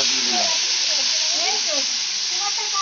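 Ginger-garlic paste sizzles in hot oil with a bay leaf, a bright continuous hiss with small crackles and bubbling pops close by, with no talk.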